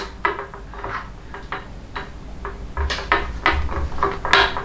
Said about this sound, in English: Mix the eggs, okay?